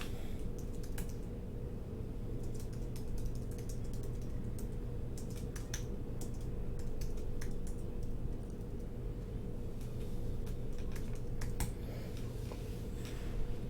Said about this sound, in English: And now we can use our keyboard and we can type in the text.